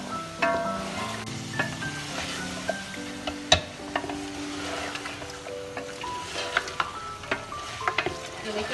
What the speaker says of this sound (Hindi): इसको मैं थोड़ा सा भूनूँगी